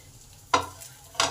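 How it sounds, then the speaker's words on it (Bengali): Steamed mung dal rice-flour rolls being tossed with spices in a pan, two distinct scraping-and-shuffle bursts over a faint background sizzle, close and short. "এবার এই জলখাবারগুলোকে হালকা করে টস করে নেব।"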